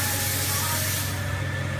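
A steam wand on an espresso machine in a coffee shop steams milk, a loud, dense, steady hiss that fills the short stretch close by, with a low background hum beneath it.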